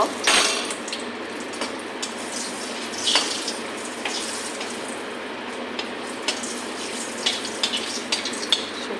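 Dry red chillies and a bay leaf fry in hot white oil in a kadai, giving a steady hissing sizzle up close, with scattered spoon taps and scrapes and a louder burst at the start.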